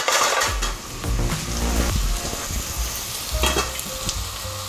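Pork frying in a pan for Mexican tacos, a loud steady sizzle with stirring and occasional scrapes, heard up close with no talking.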